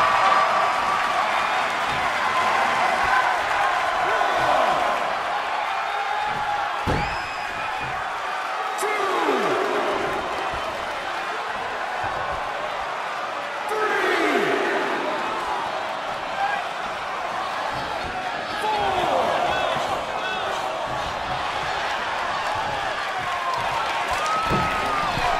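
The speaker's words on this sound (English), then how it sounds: "this crowd is on their feet in full appreciation" Video game wrestling crowd roaring and cheering in steady appreciation throughout, a dense continuous arena din with swells of louder cheering, heard under ongoing commentary talk.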